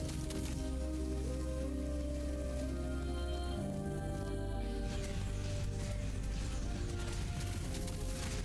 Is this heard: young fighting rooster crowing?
no